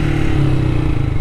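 A Honda CG Start 2023 motorcycle with a Polimet aftermarket exhaust and no air filter revs loudly and close by, a continuous rough, throbbing engine note with no talk.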